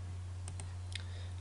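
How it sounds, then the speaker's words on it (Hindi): Computer mouse clicks while working in AutoCAD Mechanical, a few faint, sharp, isolated clicks over a steady low electrical hum. "डायमेंशन के बटन पे क्लिक करें"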